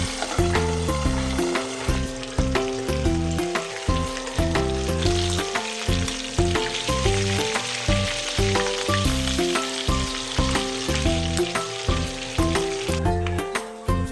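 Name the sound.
galunggong fish frying in oil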